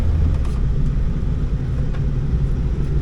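A Ford F250 with a 7.3 Powerstroke diesel, once a crank-no-start fault, idles steadily in a low, continuous rumble close by, with no voices over it.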